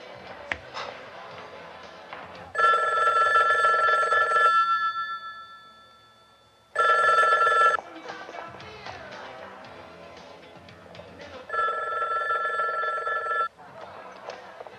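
A telephone rings in three long bursts of a steady electronic warble, with a near-silent pause after the second burst, on a thriller film soundtrack.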